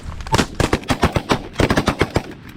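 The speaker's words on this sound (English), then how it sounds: "Good shooting, boys." Goose hunters' shotguns fire in a rapid volley in Pennsylvania, about a dozen sharp, loud blasts in quick irregular succession, some overlapping, close to the listener.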